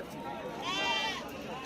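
A goat bleats at a busy goat and sheep market in Shirur, Pune district, one drawn-out wavering call in the middle of the clip, rising over low crowd murmur and nearby talk.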